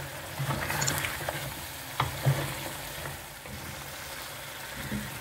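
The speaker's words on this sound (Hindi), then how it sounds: "देखिए 5 मिनट हो गए मुझे भूनते हुए, कितना ही अच्छा जो है तेल सारा बाहर आ गया।" Lahori paaye trotters are being fried bhuna style in oil, a low, steady sizzle under occasional stirring scrapes and soft clinks, close by with no voices.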